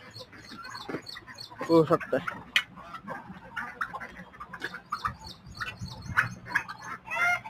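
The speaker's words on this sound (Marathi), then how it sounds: "हे बदकाची पिल्ल आहेत शिल्लक. गिनी फॉलची पिल्ल आहेत. त्याचबरोबर ही टर्की आहे." Ducklings, guinea fowl chicks and a turkey let out of their pen to graze on grass give scattered chirps and clucks near at hand, intermittent and fairly soft, under a person talking and coaxing them outside.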